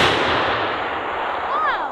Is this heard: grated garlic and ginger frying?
no